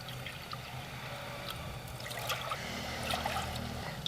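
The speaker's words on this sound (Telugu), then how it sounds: "మినుముల పాశం వండుకోవడానికి మూడు కప్పుల నీళ్ళు పోసుకుందాం" Three cups of water pour and trickle steadily into a pot for cooking black gram, a close, continuous splashing stream that grows slightly fuller toward the end.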